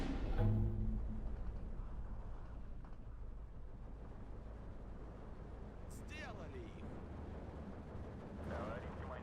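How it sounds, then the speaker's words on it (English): Mortars of 50mm fire in the Steel Division 2 war game, heard as dull, distant thumps and rumbling booms mixed with battlefield noise beneath steady talking. "But 50mm mortars are actually engaging."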